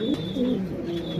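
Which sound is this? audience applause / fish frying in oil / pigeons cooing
pigeons cooing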